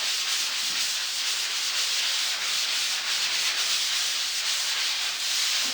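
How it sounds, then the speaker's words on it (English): Sandpaper rubbing over a patched hole in a wall: a continuous, even, close-up scratchy hiss with light rhythmic strokes throughout and no voices. "Okay, so this is all sanded off now."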